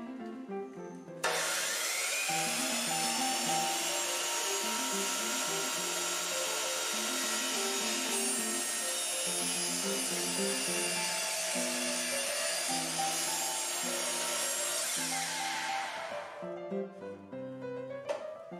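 A chop saw cutting through wooden trim for a mirror, the motor whining up sharply and grinding through the wood for about fourteen seconds at close range, then spinning down, with no voices.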